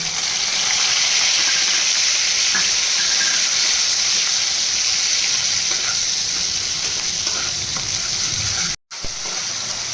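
Ginger paste hitting hot oil already fragrant with whole cumin and a torn bay leaf, cooking for potol dorma: a loud, close, unbroken hiss of sizzling that cuts out for an instant near the end.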